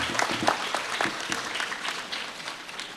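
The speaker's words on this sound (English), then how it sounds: "You need to give them a rounding sound of applause." A graduation ceremony audience claps in a round of applause, steady scattered handclaps filling a hall, moderately distant and without speech.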